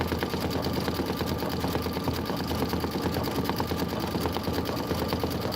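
An embroidery machine stitching an accent C-fill on a Kimberbell Enchanted Winter design, a steady fast rattling needle rhythm that runs continuously at moderate volume with no talking.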